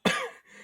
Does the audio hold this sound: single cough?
yes